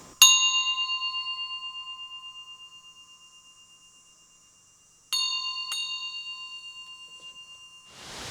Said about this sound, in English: I finished it off by installing a small brass bell on the casing.